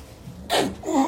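One sudden, close sneeze: a sharp burst of air followed by a short voiced tail.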